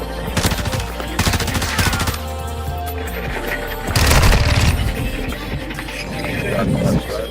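Gunfire from the first-person shooter Modern Warfare, rapid automatic bursts and single shots crackling close and loud, with a heavier boom midway and a voice talking over the action.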